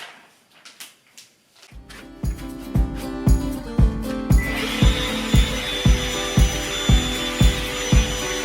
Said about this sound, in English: give it another go on the vacuum cleaner.